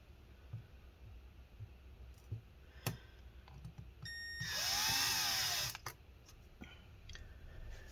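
A small power drill whirs for about a second and a half during disassembly of a Lenovo Yoga 720-15IKB laptop, set among quiet clicks and handling taps of tools on the laptop.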